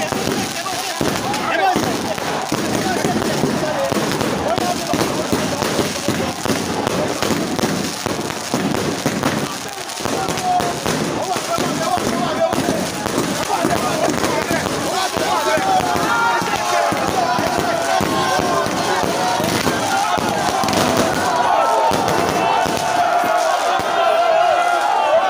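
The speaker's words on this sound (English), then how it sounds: "he was throwing the banger himself" Bangers set off at night among a large crowd, a continuous crackle of popping explosions over loud crowd noise and shouting.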